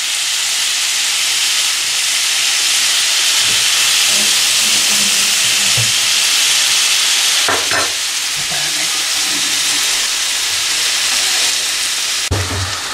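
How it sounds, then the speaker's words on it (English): Mutton for biryani, mixed with thick curd, chili powder and spices, sizzles loudly in a hot pot: a steady close hiss, with a few scraping bursts as the mixture is stirred, no talking. "Mix it everything together."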